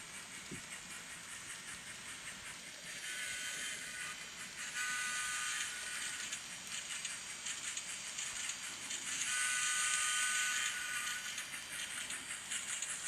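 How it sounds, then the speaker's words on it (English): N scale model trains running on a layout with an Atlas turntable and roundhouse, giving a steady, faint mechanical hum and whir that swells louder midway and near the end, with no talking. "It's time to run some trains."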